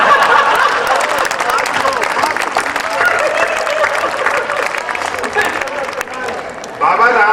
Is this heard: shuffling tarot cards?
no